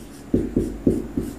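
A formula is written on a board in four separate, evenly spaced strokes, each one a close, short tap and scrape, with no talking.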